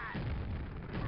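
Gunfire and explosive blasts from the Quake video game during a deathmatch with grenade jumping: a dense, continuous run of heavy booming shots and bursts filling the short stretch, loud and close.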